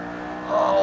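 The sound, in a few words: McLaren P1 engine revving, video game Assetto Corsa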